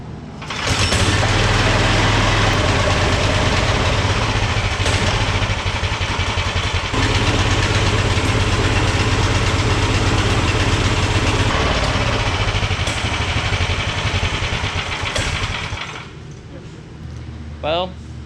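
An 18 hp go-kart engine cranks and fires, then runs at a steady loud idle for most of the stretch before cutting out near the end, with voices talking over it.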